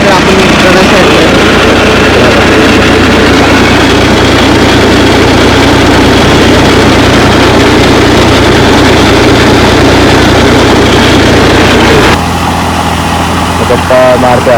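A farm tractor engine runs loud and steady at close range, a continuous throbbing drone that shifts slightly near the end.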